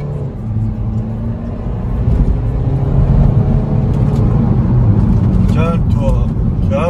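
A Mini Countryman SD drives through a tunnel with a steady, droning engine and road roar that swells slightly. A singing or rapping voice runs over it.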